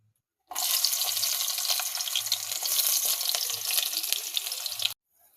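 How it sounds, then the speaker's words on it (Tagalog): Cooking oil heating and frying in a pan for pancit bihon, a steady loud sizzle that starts abruptly, holds for about four seconds and cuts off, with no talk over it. "So nagpainit na tagmantika."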